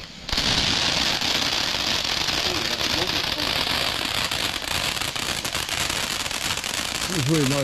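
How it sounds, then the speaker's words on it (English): A Fire Star Midnight Mirage firework display at a Bonfire Night show bursts into loud, dense crackling and rapid popping that runs continuously for several seconds, with a brief whistling rise near the end. "we're doing this midnight mirage. Again, this is by Fire Star Fireworks"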